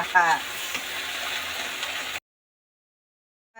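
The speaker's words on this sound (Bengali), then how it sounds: "শুধু পেঁয়াজ কাঁচামরিচ আর একটু সামান্য অর্থাৎ স্বাদ মতো লবণ দিয়ে আজকের ভেন্ডি ভাজি করছি" Okra (ladies' finger) fries in a pan with onion, green chili and a little salt, giving a loud, steady sizzle with a few stirring scrapes before it cuts off abruptly into silence.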